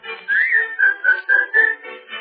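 A person whistles a cheerful melody alone in a 1937 radio comedy show, with clear, steady sustained notes broken into a rhythmic phrase of several short, bright tones.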